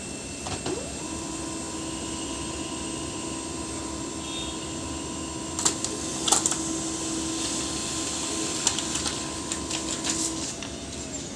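An HP LaserJet 1008 laser printer running a test page gives a steady mechanical whir with a constant tone, plus a few brief clicks and clatters partway through, with no talking.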